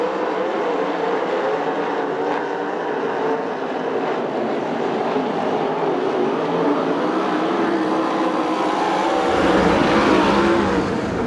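USAC/CRA sprint cars race at Perris, California on the opening lap, a dense, continuous roar of several engines at close range, swelling louder near the end with no talk over it.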